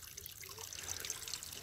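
Flowing stream water at a snowy winter campsite, a soft, continuous trickle and babble that stays faint and even for the whole short stretch, with no voices.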